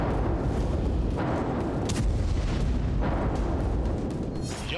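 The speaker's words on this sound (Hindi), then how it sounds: "लाल सागर में मिसाइल का एक धमाका और फिर यमन में 10 से ज्यादा धमाके।" Missile blasts and airstrike explosions tied to strikes in Yemen and the Red Sea: a dense, continuous run of heavy booms and rumbling detonations, several sharp bursts standing out over a loud, roaring low-end wash.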